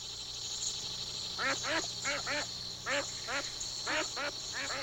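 Canadian ducks on a lake give a quick run of repeated nasal calls in short clustered bursts, moderately distant over a steady background hum, with no talking.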